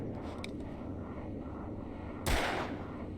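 A single loud, booming gunshot from the video game Alan Wake cracks out over a steady low rumble of game ambience.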